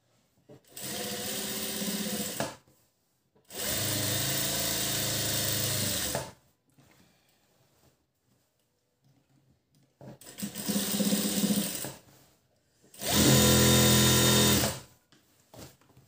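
Electric sewing machine stitching a blouse seam, running in four steady bursts of a few seconds each, with short pauses between runs; close and fairly loud, no talking.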